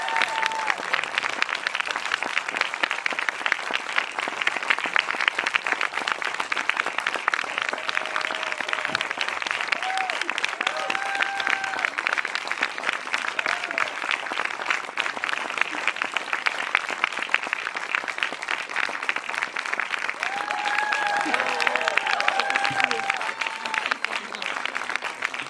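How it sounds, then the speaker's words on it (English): Sustained audience applause at the Zurich Film Festival Masters event as a guest makes her way down, steady dense clapping filling the whole stretch, with faint scattered voices and cheers rising near the end. "when she comes down, let's give her a big round of applause"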